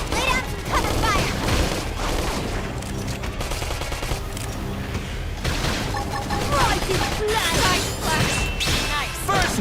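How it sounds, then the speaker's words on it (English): Gunfire in a Xenoblade Chronicles X battle: dense, rapid bursts of shots that crack and clatter for the whole stretch, loud and close, with a voice speaking over the fighting. "Lay down some cover fire."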